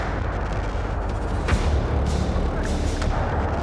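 Shelling near Kharkiv, Ukraine, where distant explosions thud and boom a few times over a constant rumbling background, the blasts muffled and far away rather than close.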